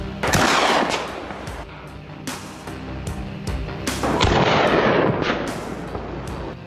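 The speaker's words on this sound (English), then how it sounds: "The shot echoed in the icy stillness, and the beast dropped right on the spot." Rifle fire during a wild boar hunt in an Australian eucalyptus forest: a rapid string of loud, booming shots with rolling echoes, overlapping into a dense, continuous barrage.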